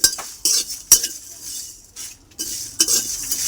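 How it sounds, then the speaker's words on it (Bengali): Whole cumin, coriander, fennel and dried chillies dry-roasting in a pan, with bursts of stirring scrapes and metallic clinks of a spoon against the pan, close and intermittent, separated by short quiet gaps. "শুকনো খোলায় আমি এটা ভেজে"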